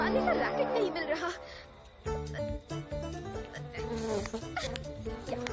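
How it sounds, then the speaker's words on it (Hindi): Buzzing of cartoon mosquitoes in an animated Motu Patlu film, a thin insect whine running under busy music and voices throughout. "यहाँ मच्छर, वहाँ मच्छर, जहाँ देखो वहाँ मच्छर ही मच्छर।"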